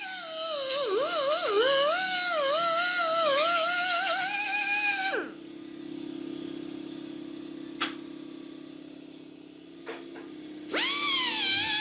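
A power tool cuts off a fin on the flywheel of a Kohler K181 engine: a loud, shrill whine for about five seconds, then quiet with small clicks, then the whine starting up again near the end.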